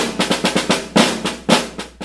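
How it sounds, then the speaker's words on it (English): Snare drum keeping steady time in a military march style, with crisp evenly spaced strokes and occasional louder accented hits, played alone and close. "The first is as a metronome."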